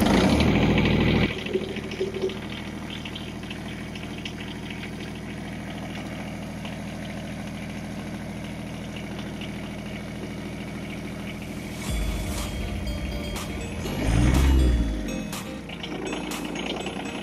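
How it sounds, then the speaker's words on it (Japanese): A farm tractor engine starts with a burst, then settles into a steady low idle for a long stretch, briefly rising and revving near the end. "ではエンジンをかけます。"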